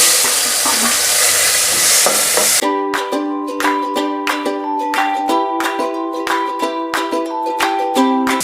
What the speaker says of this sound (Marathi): आता मोहरी तडतडली की त्यामध्ये जिरं, हिंग आणि हे चिरून घेतलेले टोमॅटो।